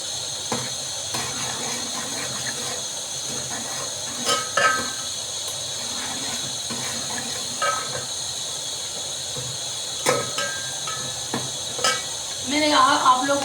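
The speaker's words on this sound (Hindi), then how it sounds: "थोड़ी सी नमक डालो तो प्याज जल्दी ब्राउन होते हैं।" Onions fry with a pinch of salt in a home kitchen pan, giving a constant hiss and sizzle with occasional clinks and stirring scrapes, close and even throughout.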